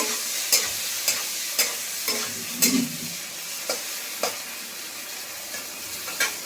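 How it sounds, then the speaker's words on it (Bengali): Prawns fry in oil that sizzles steadily, punctuated by regular spatula taps against the pan roughly every half second, close and without voices. "এখানে চিংড়ি মাছটা দিয়ে দিলাম, চিংড়ি মাছ ভাজাবো।"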